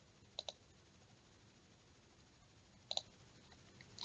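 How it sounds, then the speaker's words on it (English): Two quick pairs of crisp computer mouse clicks, the first near the start and the second near the end, separated by a quiet pause, faint and close in an otherwise silent room while formatting a spreadsheet. "and then click OK."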